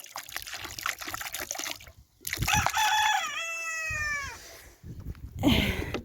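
A mixed-breed rooster crows loudly and close among clucking chickens, one long drawn-out crow in the middle with scattered clucks and rustling before and after.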